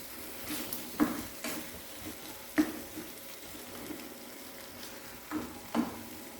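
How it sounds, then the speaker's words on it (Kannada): Prawns fry with masala in ghee for a prawn ghee roast, a low simmering sizzle broken by several sharp spoon scrapes and knocks against the pan, no talk. "ಈಗ ಮಸಾಲೆ ಜೊತೆ ಇನ್ನೊಂದು ಸ್ವಲ್ಪ ಫ್ರೈ ಆಗಲಿ."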